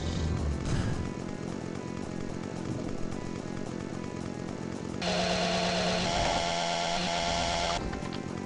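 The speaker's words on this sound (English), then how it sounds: "Oh, good chainsaw." A chainsaw in the FreeDoom video game revs and grinds loudly for a few seconds amid ongoing game noise and music, roaring steadily near the end before cutting off.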